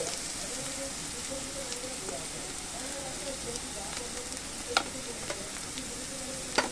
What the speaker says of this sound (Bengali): আমি এই যে মশলাটা ভালো করে একটু ভেজে নিয়েছি